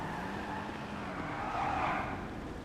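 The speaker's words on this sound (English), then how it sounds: "That is 2 people who almost hit Cass with their car." Tires squeal as a car skids close by in a GTA roleplay street scene, a sustained loud screech over engine noise lasting a few seconds, no talk.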